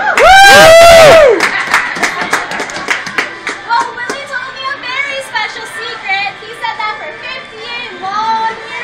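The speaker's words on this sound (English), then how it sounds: "Let's give him a big round of applause." A restaurant crowd at Texas Roadhouse cheers a man's 58th birthday: a loud close whooping shout, then scattered clapping and lively chatter continuing around the table.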